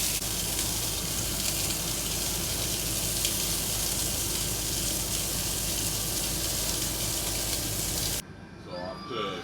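BBQ Thai mu ping pork belly skewers, glazed with palm sugar, condensed milk, cooking caramel and dark soy, grilling with a steady loud sizzling hiss for about eight seconds before it abruptly drops away, faint talk underneath.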